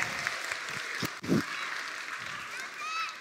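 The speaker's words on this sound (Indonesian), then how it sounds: "Tepuk tangan." Faint, thin clapping from a small group at a church intergenerational worship service, fairly distant and uneven, with a few louder nearby knocks and bumps standing out.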